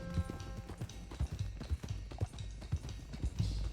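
Horses galloping in the Red Dead Redemption video game, a steady, rapid clip-clop of hooves close up, continuous and fairly loud throughout with no talking.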